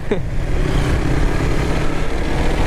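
A Yamaha RX motorcycle rides along a muddy rain-soaked road, its engine a steady near rumble with a brief rising whine at the start and no talk.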